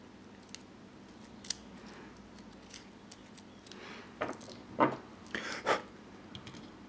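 Scissors snip through wire strands while fixing a broken Xbox 360 Rock Candy controller, a few sparse quiet clicks early on, then several louder, closer cuts in quick succession near the end.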